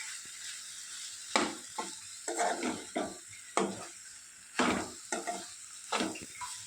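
A spoon stirs an ivy gourd and onion curry in a pan, making a series of scraping strokes with soft sizzling between them, close and moderately loud.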